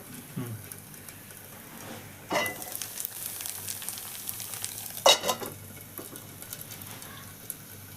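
Ottada rice cakes cook in a hot pan with a steady, soft sizzle and frying crackle, broken by a few brief louder scraping or stirring bursts.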